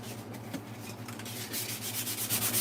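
Sandpaper rubs back and forth across wood by hand, close and steady, the strokes growing louder and more rhythmic toward the end.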